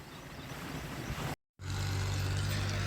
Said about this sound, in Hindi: इधर मोटा भाई के ट्रैक्टर की आवाज़ आ रही थी